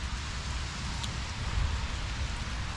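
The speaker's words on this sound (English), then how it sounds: "It's still raining, but quite lightly." Light rain patters steadily around a pitched roof shelter during a bikepacking camp in France, a soft continuous hiss with faint drips and a low wind rumble, no voices.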